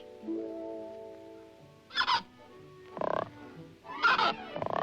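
Frogs croak in a short series of loud, raspy calls, separated by brief pauses, over a faint musical background.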